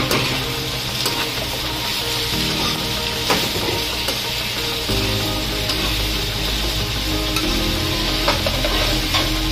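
Onions and garlic sauté in a pan with a constant busy sizzle and occasional scraping stirs, loud and close, with no talking.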